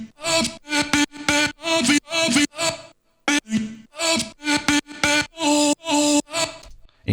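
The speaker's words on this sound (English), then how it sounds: "I have a little counter melody going on here with a vocal chop" A chopped vocal sample plays a staccato counter melody in an electronic track, short pitched syllables repeating in a steady rhythm with a brief gap midway, loud and upfront with no spoken voice.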